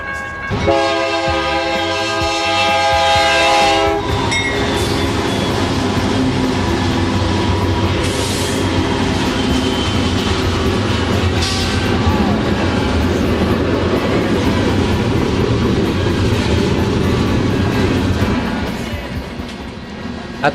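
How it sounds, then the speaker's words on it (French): A train passes on a railway line along Route 66, opening with loud sustained horn blasts followed by a long steady roar of rolling wagons, close and loud throughout. "les trains, eux, sont toujours omniprésents."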